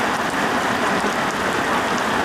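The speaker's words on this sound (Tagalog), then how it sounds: "umaambon-ambon ngayon dito ha" Light rain drizzles steadily at a poultry farm, an even close hiss of fine drops pattering on surfaces with no voices.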